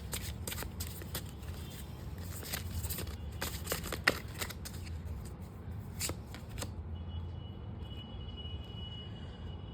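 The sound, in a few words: shuffling tarot guidance cards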